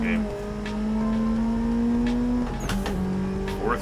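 A simulated car engine drifting in Assetto Corsa holds a sustained high whine, then drops through gear changes with brief revving bursts near the end.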